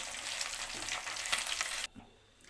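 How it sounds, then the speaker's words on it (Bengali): Chicken pakoras fry in oil with a dense, steady hiss and crackle that cuts off abruptly, leaving only a faint low sizzle. "এবার আমি সব পকোড়াগুলো এরমভাবে ভেজে নেব"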